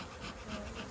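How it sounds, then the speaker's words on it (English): Honey bees hum steadily in an open beehive brood box after the colony has been smoked, a dense continuous buzz heard close up with no talking. "in here you can"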